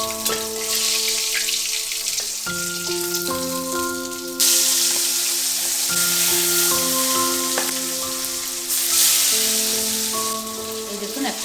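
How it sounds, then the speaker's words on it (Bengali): Tilapia fish pieces frying in hot oil give a steady close sizzle, joined by clinks and scrapes of utensils and a sustained tonal hum running throughout, with no speech. "এদিকে দেখুন মাছটা আমার মোটামুটি ভাজা হয়ে গেছে।"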